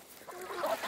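Geese honking on a goose farm, a short run of nasal calls that rises in loudness toward the end over faint background noise.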